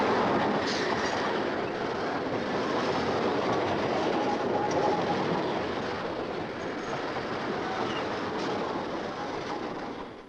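A commuter train running from Manhattan to Malvern, Long Island, rumbles steadily and loudly throughout, with wheel clatter and a broad, continuous rail roar close by.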